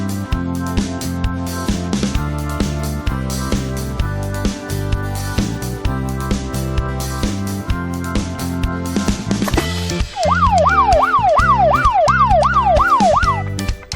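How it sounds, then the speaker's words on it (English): A toy police car siren wails in a rapid, steady up-and-down warble over busy background music, loud and close, starting partway through and running to the end. "Police car."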